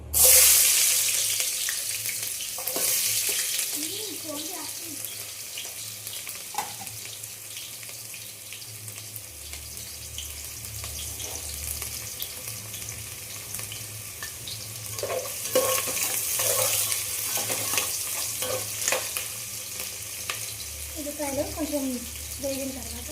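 Onions fry in hot oil for a fish curry, a steady close sizzle with occasional stirring scrapes, while someone talks over it at intervals.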